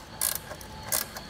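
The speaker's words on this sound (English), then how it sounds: "We'll go ahead, get our wrench on it." Box wrench working a 13 mm nut off the horn of a 2021 Chevrolet Spark, two bright metallic ratcheting bursts close by in a tight engine bay, no speech.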